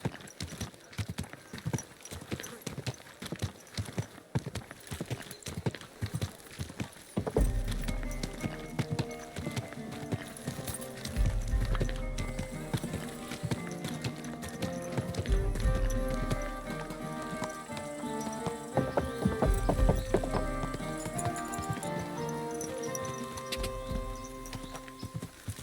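Horse hooves clip-clop steadily in Kingdom Come: Deliverance II, a medieval role-playing game, starting sparse and then turning into a denser, faster rhythm over a music score, with a brief whinny and a rider urging the horse on.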